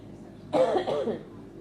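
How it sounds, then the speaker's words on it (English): A single short cough, close and fairly loud, with a slight throat-clearing quality, followed by quiet. "I am going to just pause here to cough"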